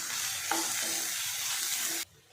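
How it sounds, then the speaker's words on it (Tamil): Tomato and green chilies sautéing in a pan for chicken pepper fry, a steady broadband sizzle with a few soft utensil scrapes, close and continuous before cutting off abruptly near the end. "ஒரு தக்காளி எடுத்து வச்சுருக்கிறோம் அதையும் போட்டுக்கலாம் ரெண்டு பச்சை மிளகாய் இதெல்லாம் சேர்த்து நல்லா வதக்கி விடலாம்"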